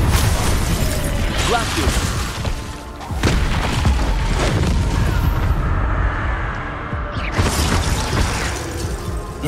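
Confringo and Incendio spell blasts in Hogwarts Legacy, several booming bursts and crackling thuds over game effects, with a brief shouted voice.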